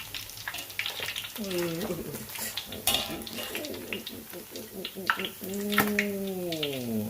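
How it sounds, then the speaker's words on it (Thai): A whole sea bass fries in hot oil with a steady hiss and crackle, while someone talks over it. "อันนี้ผมทอดน้ำมันนะ"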